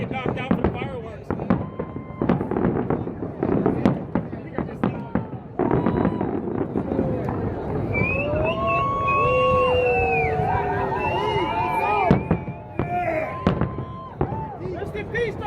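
Fireworks burst over the Tropicana casino implosion event in Las Vegas, loud rapid cracks and booms in quick succession with whistling rising streaks, under a crowd's cheering and chatter.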